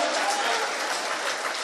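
An audience at a mushaira poetry gathering claps steadily and loudly, a dense continuous wash of applause filling the hall without a break.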